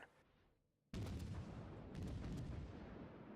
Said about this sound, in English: the Scharnhorst guns are pretty darn accurate